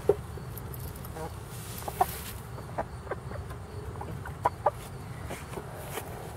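Young chicken chicks cluck and peep in short, scattered calls over a steady outdoor background hum, fairly faint and close.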